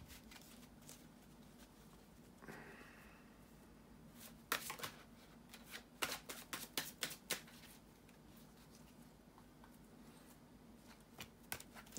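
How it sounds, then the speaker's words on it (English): A deck of tarot cards is shuffled close by in a quiet room, first a soft riffle and then a burst of sharp, crisp snapping flicks in quick succession, with a low steady hum underneath. "bear with me a second, guys, to shuffle the cards"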